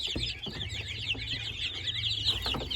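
Sussex chickens cluck and chatter in a coop, a busy layer of overlapping calls close by over a low background hum, with no talking.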